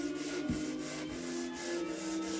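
Sandpaper is worked by hand across a wooden surface in steady back-and-forth strokes, a close, continuous rasping rub with a regular rhythm of about two strokes per second.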